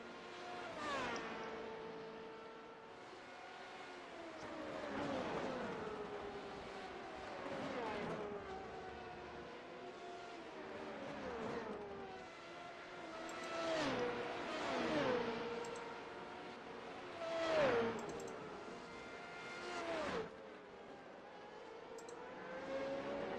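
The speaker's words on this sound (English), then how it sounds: "take a look at the 61 of Mark Bruning out of the Tulip Racing Stable." Renault 3.5 single-seater race cars lapping Circuit Gilles Villeneuve, repeated high engine whines rising and falling as they pass, upshifts and downshifts audible, moderately distant and continuous.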